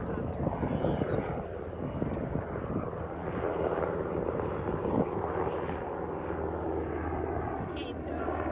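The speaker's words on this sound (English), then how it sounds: "I'm going to wait for this helicopter to leave." A helicopter passing overhead produces a loud, continuous engine and rotor roar that holds steady throughout, swamping the background.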